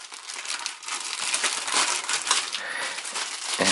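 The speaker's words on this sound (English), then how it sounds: "I'm going to go ahead and tear apart this plastic wrap" Plastic wrap is torn off a box holding a handheld GoPro gimbal, a loud, close, continuous crinkling and ripping with no one talking.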